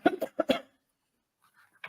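A woman coughs several times in a quick burst, close and fairly loud, followed by near silence and a faint trailing sound.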